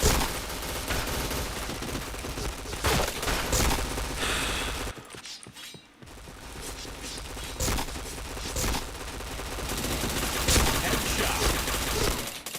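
Rapid bursts of gunfire from a mobile shooter game, loud and dense with repeated volleys, a brief near-silent gap midway, then continuous shooting again; faint talk underneath.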